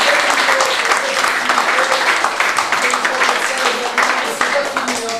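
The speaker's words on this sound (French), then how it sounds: "Applaudissements pour toutes les personnes." Dense crowd applause fills a stadium, sustained and loud throughout, with a voice speaking over the clapping.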